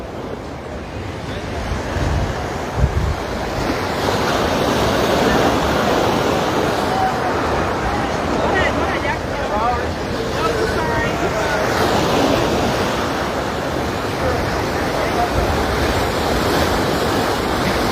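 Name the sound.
ocean waves crashing with wind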